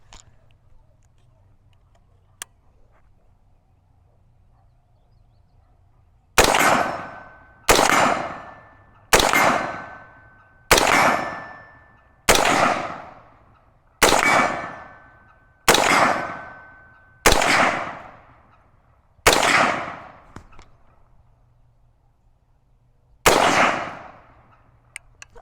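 Nine sharp shots from a PSA AR15 rifle at an outdoor range ring out loud and close, fired at a measured pace with a ringing decay after each. A longer pause comes before the last one.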